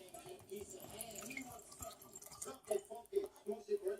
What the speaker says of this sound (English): This is pomegranate juice and elderberry juice, and just going to pour a little bit in each one.